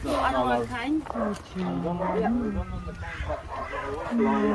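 A dog barks in the background amid rescued animals in Egypt, its barks partly buried under near-continuous talking voices throughout.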